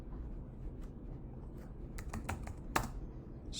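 Someone types a terminal command on a computer keyboard under Ubuntu Linux, with quick, light key clicks in an uneven rhythm that grow louder and sharper toward the end, close and alone with no talk.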